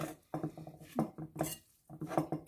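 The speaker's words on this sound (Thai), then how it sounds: "ตักใส่จานเลยนะคะ ที่เราเตรียมจานมา" Serving spoon scraping and clinking against a plate while Thai beef nam tok salad is dished up, a few close, quiet utensil-on-dish clatters in separate bursts with pauses between.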